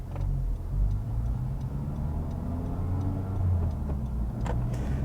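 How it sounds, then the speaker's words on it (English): Bridgestone Sport Contact 6 tires on a moving Honda Civic Type R give a steady low rumbling road roar inside the cabin, with faint light ticks over the drone and no talk. "these tires seem a little noisy, or I just hear a lot going on with the tires"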